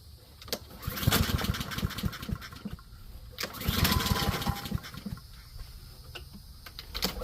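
A Honda HRR lawn mower with no air filter is cranked, producing two surges of sputtering, uneven engine chugging that struggle to catch and fade between attempts, heard close and moderately loud.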